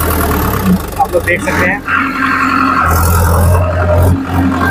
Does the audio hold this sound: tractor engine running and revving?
yes